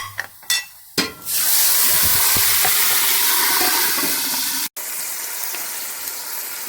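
Onions sizzle loudly in a pan as chilli flakes, cumin and water go in, a few clinks first, then a sudden sustained hiss of frying, briefly cut off before the sizzling resumes, close and steady.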